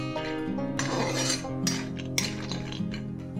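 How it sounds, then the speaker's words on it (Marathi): Almonds roasting in ghee in a metal pan, with bright clinking and scraping of a spoon against the pan in irregular bursts, close and fairly loud, no talking. "थोड्या आधी बदाम भाजून घेते"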